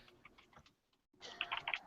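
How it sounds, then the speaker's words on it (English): Quick, quiet keystrokes on a computer keyboard come in a short sparse burst, a brief pause, then a denser flurry of clicks. "You guys can chat while I'm typing this."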